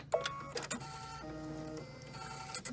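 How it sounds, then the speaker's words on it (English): The automatic needle threader on a Brother Luminaire sewing machine runs with faint mechanical clicks and a short, steady motor whir, heard close up in a quiet room. "Then you're just going to press your needle threader button right here"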